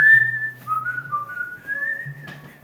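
A whistle sounded as a signal to pause, a clear sustained tone that wavers and slides in pitch across a couple of seconds, loud and close with no talking.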